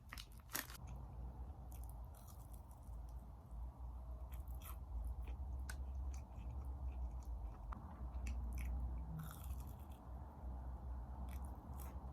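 Close, quiet chewing of a Lotteria cheese stick and fries, with soft crunches and squishy bites repeating irregularly against a low background, without talk.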